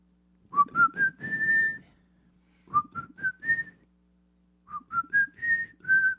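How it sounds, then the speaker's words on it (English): Whistling of a simple rising melody in three short phrases separated by pauses, clear and fairly close, with a low steady hum beneath. "we're whistling in the dark"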